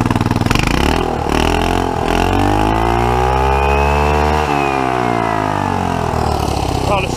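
A turbocharged scooter engine runs with its air filter removed, loud and close, its pitch sweeping up to a sustained high rev and then falling back down, with a raspy mechanical edge throughout.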